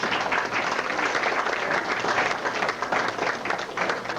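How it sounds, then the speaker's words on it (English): Audience at a USPS retirement party giving a round of applause, continuous dense clapping at a steady level across the whole stretch. "Let's give them a round of applause."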